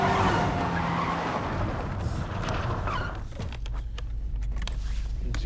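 A car's tires skid and squeal as a foot slips off the accelerator, a loud sustained screech with engine noise that cuts off abruptly partway through, leaving a rumbling low hum.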